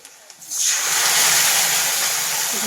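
Tomato with a little ginger and garlic hits hot oil in a Bengali rui fish curry, bursting into a loud, steady sizzle after a couple of soft taps, then holding a bright, continuous hiss to the end.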